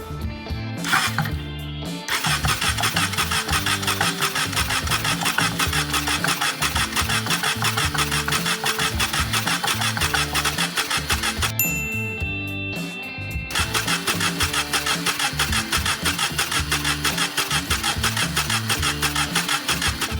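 A Honda CB750 motorcycle engine with its valve cover off turns over on the starter in long, continuous mechanical churning, broken by two brief pauses.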